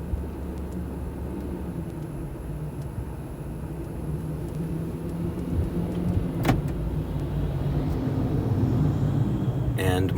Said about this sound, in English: there goes the street sweeper